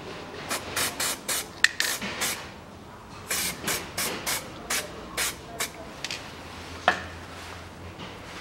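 Copper grease sprayed from an aerosol can onto a suspension bolt during stabilizer work on a 2000 Toyota Noah, about a dozen short close hissing bursts in quick uneven succession with a pause in the middle.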